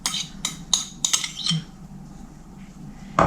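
Eggplant vegetable salad being mixed in a metal bowl, with a run of sharp clinks and scrapes of utensils against the bowl early on, then quieter stirring and a final clink.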